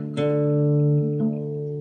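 Electric guitar phrase from a song, a plucked note ringing out then a second pluck near the end sustaining, played alone and close with no voices.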